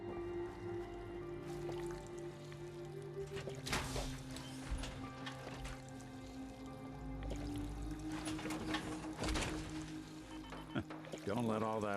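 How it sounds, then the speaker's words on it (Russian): Water in the Fallout 4 game, a soft dripping, trickling flow under faint background tones, with small splashes and squishy bursts scattered through. "Звук воды остался."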